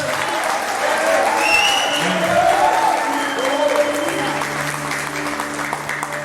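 A congregation applauding during a men's church congress, with steady clapping blended with voices and a sung or spoken tone rising above the crowd.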